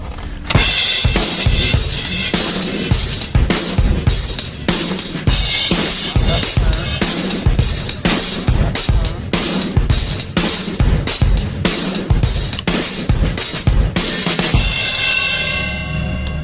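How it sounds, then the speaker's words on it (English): A full rock drum kit pounds out steady driving 8th notes, then shifts into a syncopated pattern, with loud cymbal wash and hard kick and snare hits throughout, the sound ringing out alone at the end. "I'll play that, the slamming away with the 8th notes, and then I'll throw in the new syncopated rhythm"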